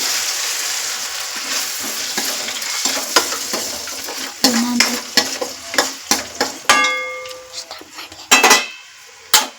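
Spices sizzle in hot oil for a masala rice tempering as lemon juice goes in. Busy frying hiss runs throughout, with sharp spoon-on-pan clinks and scrapes growing louder and more frequent toward the end.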